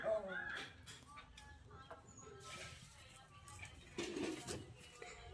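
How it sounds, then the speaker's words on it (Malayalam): A steel plate stirs a lumpy mixture in a pot, giving repeated scraping and clinking strokes of metal against metal, close and moderately loud, with a voice faintly in the background. "അപ്പൊ ഇത് സ്റ്റീൽ പ്ലേറ്റ് വെച്ച് അമ്മ നല്ലോണം ഇളക്കുന്നുണ്ട്"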